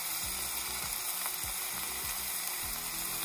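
Zucchini with tomato paste sizzles in a pan, a close, bright frying hiss with soft rhythmic scraping knocks from stirring about every half second.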